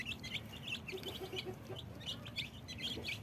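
Baby chicks peep and chirp in quick, repeated bursts while pecking at soaked bread, a soft, busy chorus heard fairly close against a low background.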